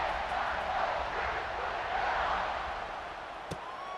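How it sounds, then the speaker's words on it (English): Football stadium crowd keeps up a broad, steady roar after a touchdown, dense and continuous with a single sharp knock near the end. "this crowd is buzzing after that last score"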